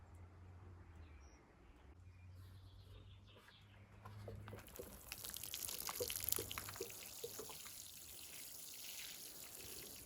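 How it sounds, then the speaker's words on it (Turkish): Newly planted tomato seedlings in a village garden being watered generously, a soft trickling pour that picks up halfway and continues with splashes and drips, faint and outdoors, with birds calling in the background and no talking. "Can suyunu bol miktarda veriyoruz arkadaşlar."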